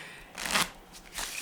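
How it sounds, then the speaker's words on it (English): A deck of playing cards is shuffled in two quick, close riffling bursts, crisp and papery, with no talk. "you're shuffling the deck of cards"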